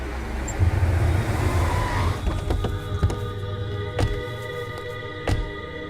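A car on a road slows and comes to a stop, its engine rumble fading after a couple of seconds, followed by a few sharp knocks and clicks at close range.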